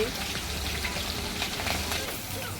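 Cumin, mustard seeds, garlic and chillies crackle and sizzle in hot oil for a pitho-style besan dish, a loud, close, continuous frying hiss with no break.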